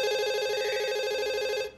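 A telephone rings with a steady electronic tone, loud and unbroken for almost two seconds before cutting off, signalling the next incoming call on a children's game show.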